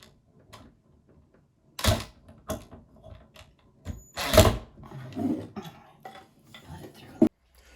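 Door-mounted storage unit, temporarily hung on the back of a door for a dry fit, swinging closed with a sharp knock near the end, after scattered clunks and rattles of handling; a voice talks briefly in between.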